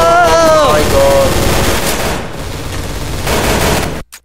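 Machine gun in the video game Day of Defeat fires a long, loud, dense burst, sustained almost without pause over a busy battle mix with brief tonal game sounds at the start.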